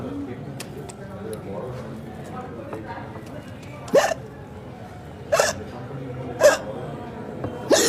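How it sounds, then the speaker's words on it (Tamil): Several sharp hiccups pop out at irregular intervals, about four in eight seconds, over a steady background of low talk and room noise. "எனக்கு விக்கல் வந்தால் நிப்பாட்ட தெரியும்."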